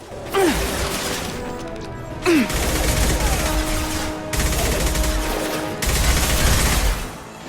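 Gunfire in the video game Mass Effect 2, heard as dense sustained bursts of weapon fire in several long stretches, loud and close, with brief pauses between them and game sound effects mixed in.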